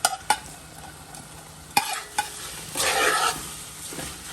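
Rice with green seasoning being stirred and fried in a hot pot for peas and rice: a few sharp spoon knocks against the pot, then a swelling sizzle as the grains are mixed, close and clear with no voices.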